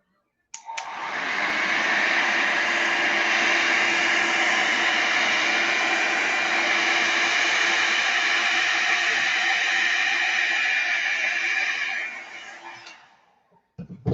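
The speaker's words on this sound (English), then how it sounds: "I'm going to hit that with the heat gun real quick." A heat gun blows hot air in one steady, loud whooshing roar lasting about twelve seconds, switching on abruptly and winding down at the end, close to the listener.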